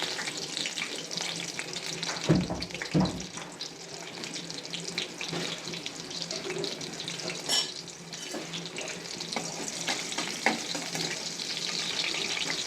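Cumin seeds and chilli fry in hot oil with onion, a continuous close hiss and crackle punctuated by a couple of thuds and scrapes from stirring, with no talking.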